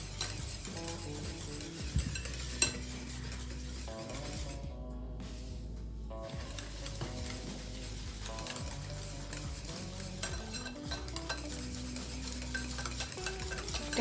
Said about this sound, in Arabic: غادي نبقاو نضيفوا السميده ديالنا تدريجيا، يعني نحاول نخلط شويه بشويه